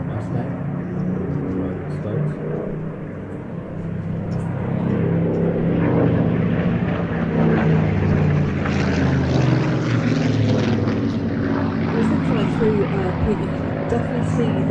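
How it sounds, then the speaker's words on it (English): Rolls-Royce Merlin aircraft engines at an air show, a loud, steady propeller drone that swells midway and holds, with a voice talking underneath. "Hear the sound of the Merlins."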